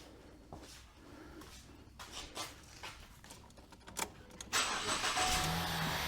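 A Ford Escape's engine starts after a leak repair: a few quiet clicks and knocks give way to the engine catching, then a steady, fairly loud idle close by.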